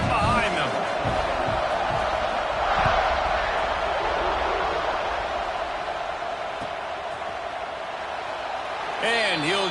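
A college football stadium crowd roars steadily at a kickoff after an extra point, a broad distant wash of cheering under a commentator's voice, with a brief swell partway through.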